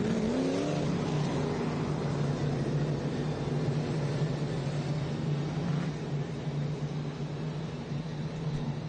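Race cars pace around Auburndale Speedway under a yellow flag, a steady loud drone of engines with a rising whine near the start and no talk over it.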